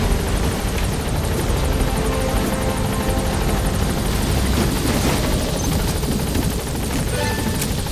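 A helicopter climbs in Metal Gear Solid 5: The Phantom Pain, its rotor thumping in a rapid, continuous beat over a loud, constant engine roar that never lets up.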